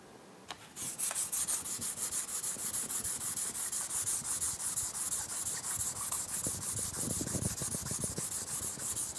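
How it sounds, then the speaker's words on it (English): A sanding block loaded with an abrasive compound is rubbed back and forth on a clock part during finishing work, a steady close scratchy rasp with an even rhythm that runs continuously after a brief start. "I'm going to try loading up a sanding block with this stuff."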